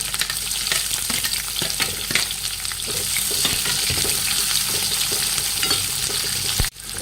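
Onion sizzles in hot oil with mustard seeds, cumin, red chillies and curry leaves, a steady close crackle with scraping stirs throughout that cuts off abruptly near the end.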